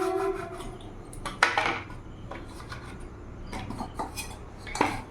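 Drumstick (moringa) stalks being cut with a knife for paratha, a few sharp scraping and snapping strokes spaced irregularly against a quiet kitchen background.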